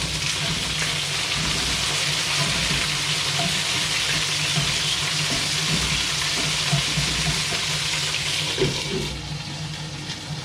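A kitchen extractor fan runs steadily while Padron peppers cook, a constant broad whooshing rush with faint crackles beneath it, easing slightly near the end.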